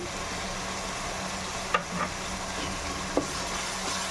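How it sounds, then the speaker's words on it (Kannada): Chicken masala with ginger garlic paste and coriander powder frying in a pan, a steady close sizzle with a couple of soft stirring scrapes, no talk. "ಇವಾಗ ಚೆನ್ನಾಗಿ ಫ್ರೈ ಮಾಡ್ಕೊಳ್ಳೋಣ"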